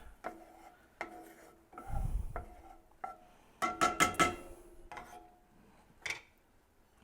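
A utensil stirs steak juices into a creamy sauce in a skillet, giving quiet scraping and clinking taps against the pan, with a brief cluster of sharper metallic knocks midway.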